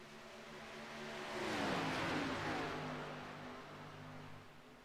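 Race cars in lap traffic at Michigan International Speedway in a Ford racing video game: a pack of engines swells as cars close in and pass, peaking mid-clip, then a steady high whine fades slightly, no talk.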